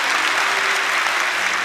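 A church congregation applauding a choir after a worship song, a full, even wash of clapping from many hands filling the space throughout.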